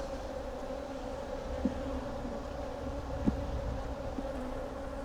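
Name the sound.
bees buzzing at an opened hive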